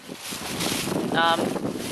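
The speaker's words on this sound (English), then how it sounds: "it's really windy" Wind buffets a nearby microphone with a steady roar and brief gusts, and a faint tonal whistle rises for a moment.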